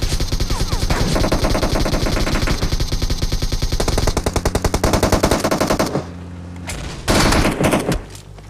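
Rapid bursts of automatic gunfire in PUBG gameplay fire in a fast continuous rhythm, loud and close, then break into a few separate louder shots near the end.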